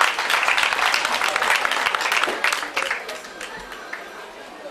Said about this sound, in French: il faut l'applaudir encore s'il vous plaît mesdames et messieurs